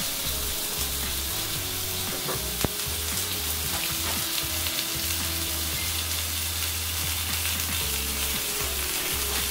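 Ground Wagyu beef burger frying in vegetable oil in an old cast iron pan gives a steady, close sizzle that stays loud and even throughout, with a few faint clicks and stirring sounds and no talking.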